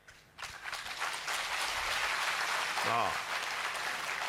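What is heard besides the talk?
audience applause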